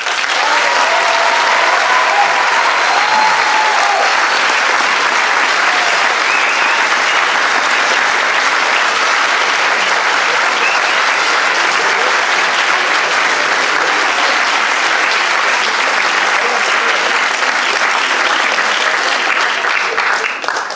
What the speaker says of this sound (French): on va juste commencer par un tonnerre d'applaudissements pour les plus bas